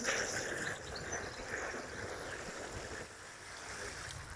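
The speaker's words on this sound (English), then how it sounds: "we've got our watering can, and I'm just going to water" Water poured from a watering can onto garden soil to wet it before planting tomato suckers, a steady close trickling and splashing wash that runs continuously outdoors.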